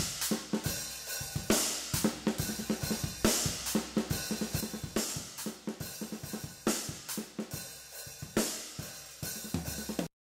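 Unprocessed acoustic drum kit picked up by overhead microphones in an industrial rock groove, with bright washy cymbals over steady kick and snare hits, played loud and continuously without any voices.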